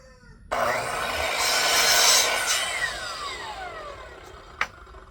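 A handsaw cuts through a wooden board in a workshop, a single rasping stroke sequence that rises and fades, ending with a sharp knock near the close.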